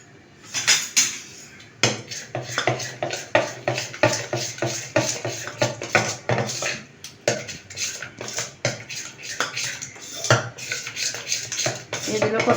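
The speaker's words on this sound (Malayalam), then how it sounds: "ഇത് നന്നായിട്ടൊന്ന് ഇളക്കണത്" A metal spoon stirs North Indian kadi in a pot, producing rapid, continuous clinks and scrapes against the metal that hold a busy irregular rhythm throughout, close and fairly loud.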